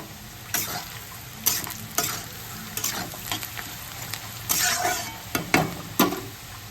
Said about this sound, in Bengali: আর একটু আমি করে নিচ্ছি উচ্ছে ভাজা।